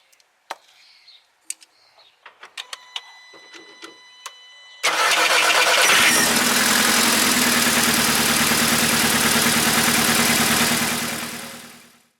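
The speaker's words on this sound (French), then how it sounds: "on va faire tourner le moteur pendant 10 secondes" A VW 2.0 TSI engine: a few faint clicks and knocks, then the engine cranks and fires, running steadily at a loud, close idle for about seven seconds before cutting off.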